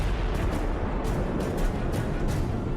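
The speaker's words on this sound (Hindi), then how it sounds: "देखिए एक टेस्ट के दौरान जब इसके धमाके को रिकॉर्ड किया गया तो क्या क्या दिखा।" A HIMARS rocket explosion recorded during a test makes a continuous heavy roaring rumble. Repeated sharper bursts crack through it at uneven intervals, loud and with no voices.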